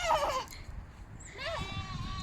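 A goat bleats twice, close and clear, with a short wavering cry followed by a longer quavering one, while a person speaks briefly at the start.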